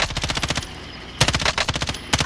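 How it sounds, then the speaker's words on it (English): Rapid automatic gunfire in Call of Duty: Modern Warfare, two sustained bursts of rattling shots separated by a short pause, loud and close with a few more cracks at the end. "We can start shooting him now."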